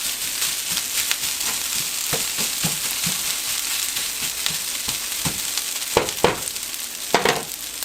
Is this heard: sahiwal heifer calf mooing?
no